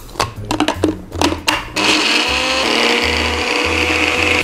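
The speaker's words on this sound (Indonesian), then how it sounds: "Kita akan blender." A food processor blends a spice paste with oil for crab cooking, starting after a few knocks and clatters, then a loud steady whirring motor close by.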